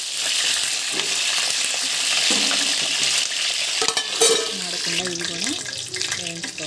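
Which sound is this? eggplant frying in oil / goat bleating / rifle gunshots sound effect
eggplant frying in oil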